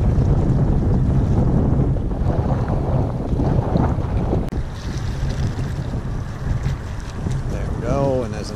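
Strong wind buffets the microphone on a fishing boat out on open water, a loud continuous roar with faint wave noise beneath it throughout.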